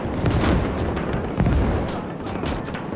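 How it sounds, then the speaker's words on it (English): Cannon artillery fires at night in the World War II strategy game Gates of Hell, a continuous rumbling barrage with deep booms and a sharper blast near the middle, heavy and close. "Big old cannons out there in the dark, shooting in"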